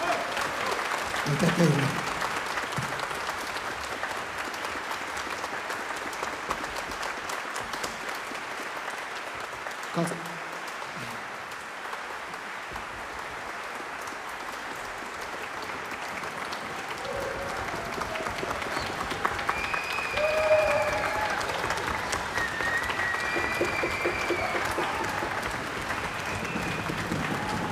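Audience applause at an Independence Restoration Day concert, a long soft wash of clapping from a crowd, with a voice speaking briefly near the start and again around the middle and later.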